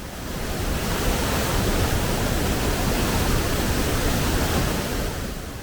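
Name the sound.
large spring water flowing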